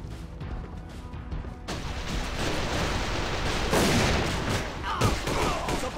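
Gunfire in the shooter game A.V.A, a burst of loud close pistol shots and impacts over busy game noise, with a player talking over parts of it.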